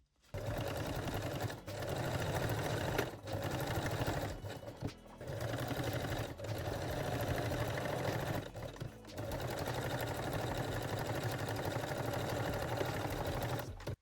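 A sewing machine stitching clips onto a nursing bralette, running in long, even bursts of rapid needle chatter separated by brief pauses, close and fairly quiet.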